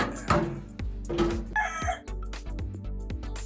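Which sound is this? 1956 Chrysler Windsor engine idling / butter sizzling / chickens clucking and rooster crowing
chickens clucking and rooster crowing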